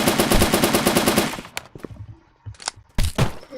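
Rapid automatic gunfire from the online shooter BLOCKPOST, a dense loud burst for about a second and a half, followed by scattered single shots and clatter with a few quieter gaps.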